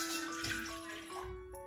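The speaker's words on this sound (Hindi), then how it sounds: "आधा पानी डाल रही हूँ। तो इसको मैं शक्कर को चाशनी बना लेती हूँ।" Water poured from a cup into sugar to make syrup for a semolina milk cake, heard as a short, soft, steady trickle with a faint ringing tone.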